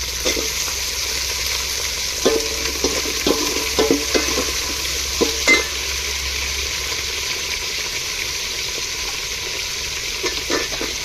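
Sautéed okra tipped into hot tempering in a pan, frying with a steady sizzle and a run of light scrapes and taps from a spoon, close and fairly loud, with no talk.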